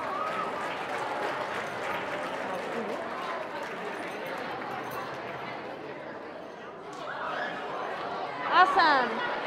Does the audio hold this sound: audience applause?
yes